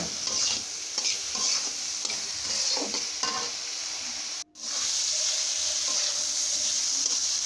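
Hilsa fish heads stirred and frying in a pan of hot oil with salt, a steady sizzle with scraping stir strokes throughout and one brief pause near the middle.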